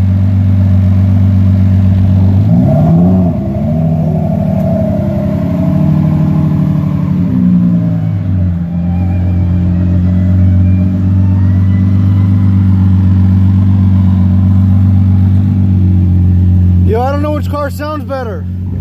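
A Dodge Demon and a Lamborghini Murcielago LP640 rumble and blip their throttles in slow traffic, a steady low engine drone with a few rises in pitch, a sharp rev near the end, and people talking over it.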